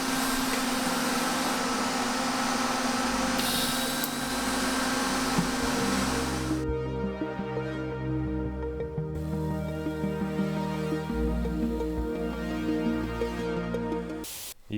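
Cutting the collector pipe of a compound turbo setup produces a loud, steady hissing grind for several seconds. The grind then drops to a humming, whining tool sound that carries on near the mic.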